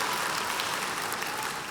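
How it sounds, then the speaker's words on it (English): Graduates at a SCAD Atlanta commencement applauding, a dense, steady wash of clapping at moderate distance with no voices over it. "give yourselves a round of applause, the Azalea Markets team"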